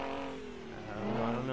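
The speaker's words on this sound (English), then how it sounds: "Quite a sound too. You guys gotta hear this truck." A Mack truck engine in the American Truck Simulator game drones steadily with a slowly shifting pitch that rises near the end, moderately loud and alone.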